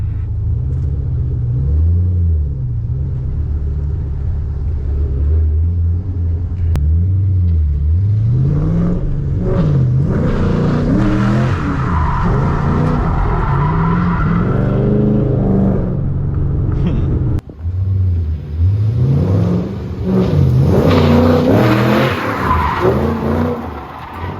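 A car does a donut, its engine revving hard in rising and falling surges while the tires squeal and rumble. The sound is loud and close, with a brief dip before another aggressive burst of revs.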